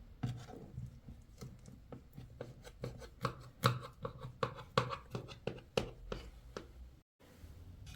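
A knife slices through layered cheese börek pastry, giving a steady run of crisp, close taps and crunchy cuts spaced roughly every half second, with a brief pause near the end.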